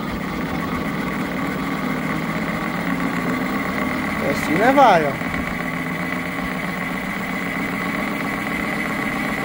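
A tuned motorcycle engine, set up for racing, idles steadily nearby and then rises in a short burst as it is shifted into gear, while someone speaks over it.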